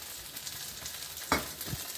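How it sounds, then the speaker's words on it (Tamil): Quiet, steady sizzling of onions roasting in oil for Udupi sambar, with a few soft stirring scrapes and one sharper clink partway through. "சும்மா வெங்காயத்தை நல்லா ரோஸ்ட் பண்ணிக்கணும்"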